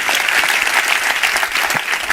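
Dense, continuous applause from a church congregation during a sermon, loud and even for the full stretch.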